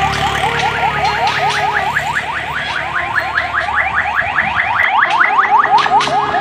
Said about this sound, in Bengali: অ্যাম্বুলেন্স করে মানে হাসপাতালে রোগী নিয়ে যাচ্ছে